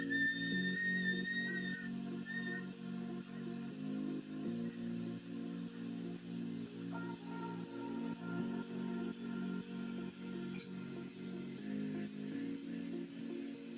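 Breath blown into a hot glass Christmas ornament at a holiday glassblowing forge makes a thin, faint whistle in short bursts near the start, over a steady roaring forge hum.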